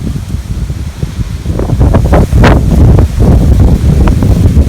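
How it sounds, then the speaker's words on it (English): Strong gusts of wind buffet the microphone in loud, rumbling bursts, with rustling leaves audible through the roar. "Sorry about the wind, folks. It's really windy here."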